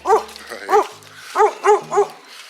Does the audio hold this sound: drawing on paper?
no